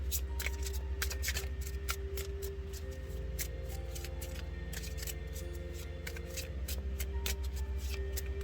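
A tarot deck is shuffled by hand over and over, with crisp riffling and card-slapping flutters in a steady, repeated rhythm over a constant low hum, close by with no talking.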